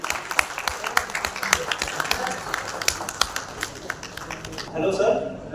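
Loud applause greets the presentation of a souvenir memento at an Indian event. Crisp, dense clapping is heard close by and continues with a voice over it before tapering off.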